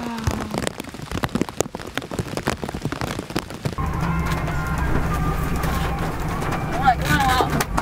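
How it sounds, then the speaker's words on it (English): Warm rain falls outdoors on a southern coast, a dense patter of drops that grows into a steady, close wash in the second half, with a voice and other faint sounds mixed in. "There's seriously something so magical about the rain."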